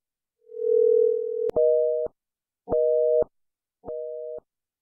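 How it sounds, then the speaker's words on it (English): A telephone busy signal: a long steady tone followed by three evenly spaced short two-tone beeps, loud and clean with nothing else around it. "The number you have dialed is currently busy."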